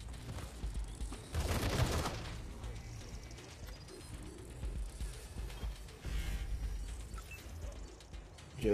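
Machine gun fire in the game Wasteland 3: a loud rapid burst stands out early, followed by softer scattered shots and mechanical clatter over a low background rumble.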